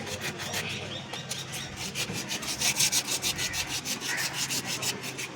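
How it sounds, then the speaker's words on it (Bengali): Wood is rubbed down by hand with sandpaper before a high-coat paint finish, a fast even rhythm of rasping back-and-forth strokes, close and steady throughout. "তাই জন্য আমরা একটু হাত দিয়ে ঘষে দিচ্ছি।"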